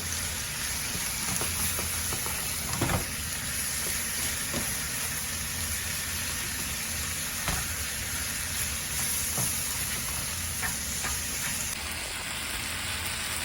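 Ground beef with taco seasoning and a can of Rotel is stirred in a hot pan, a steady close sizzle with occasional scrapes and clicks of the spoon against the pan, no talking.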